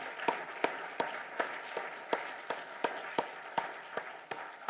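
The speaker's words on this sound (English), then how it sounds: "we can give them a round of applause for all their hard work too" Sparse, slow clapping in a room at a pitch competition. A few distinct, evenly spaced claps, fairly quiet, as the audience applauds volunteers.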